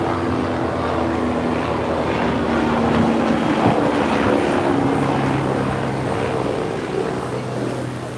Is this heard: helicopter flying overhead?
yes